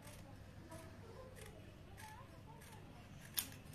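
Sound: scissors cutting saree fabric for a gharara palazzo

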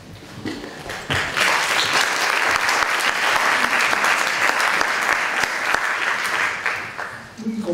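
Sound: audience applause

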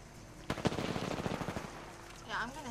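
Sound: gunfire in the video game Apex Legends

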